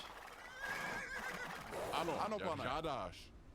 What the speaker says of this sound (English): Do you hear the rhythm of boots and the din of thundering hooves?